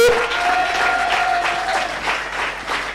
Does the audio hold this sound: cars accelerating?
no